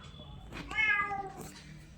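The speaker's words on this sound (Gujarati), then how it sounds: "અત્યારે આ બિલાડી આવી જઈ રોટલી ને એવું ખાવા માટે" A cat meows once, a clear rising-falling cry in the middle of a short stretch with faint background noise.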